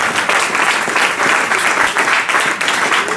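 A church congregation claps together in a dense, steady round of applause, loud and close throughout, with no clear individual voices.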